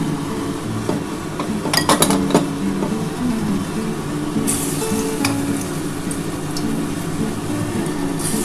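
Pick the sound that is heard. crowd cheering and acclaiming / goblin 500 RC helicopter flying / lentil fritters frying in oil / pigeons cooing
lentil fritters frying in oil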